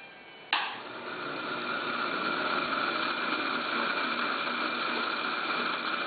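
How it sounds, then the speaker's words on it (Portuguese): Small electric motor in a classroom demonstration switches on with a click and then runs with a steady, even whirring hum that holds to the end. "quando eu ligo o motor, o que acontece? O choque de cargas elétricas faz com que o motor se movimente."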